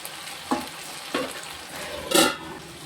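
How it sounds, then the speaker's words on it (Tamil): Ivy gourd fries in oil in a pan, a soft sizzle broken by three scraping stirs with a spoon, the last one the loudest and longest, with no voices. "காய் இந்த அளவுக்கு நல்லா சுருண்டு வதங்கி வந்துருச்சு."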